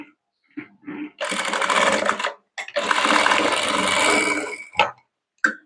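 A sewing machine stitches a round-collar kurti in two close, loud bursts of rapid needle chatter, each about a second or two long, separated by brief handling clicks and pauses.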